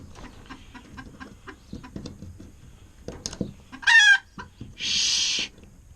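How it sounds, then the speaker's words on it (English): Chickens in a coop give scattered soft clucks, then a sharp loud squawk and a harsher burst of alarmed calling near the end, heard close and without talk. "You're being a crazy chicken."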